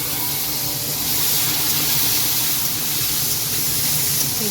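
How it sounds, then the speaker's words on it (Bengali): Potatoes fry in hot oil left over from frying fish, seasoned with black cumin and bay leaf, giving a steady, loud sizzling hiss close up with no voices over it. "আলুগুলো একটু ভাজা হোক"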